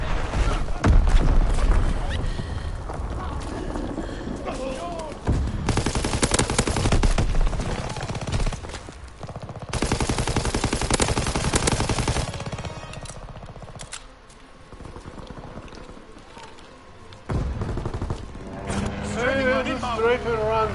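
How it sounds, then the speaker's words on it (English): Fighter aircraft strafing run in a PS4 video game: rapid machine gun fire comes in long, loud, dense bursts separated by quieter stretches of engine and battle noise, with voices appearing now and then. "Fighter aircraft ready for strafing run."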